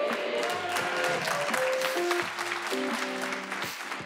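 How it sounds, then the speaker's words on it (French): Audience applause at a French stand-up comedy show, mostly women clapping, a steady, moderately loud patter of many hands throughout with faint tonal sounds underneath. "Il y a vraiment que les meufs qui applaudissent, c'est marrant"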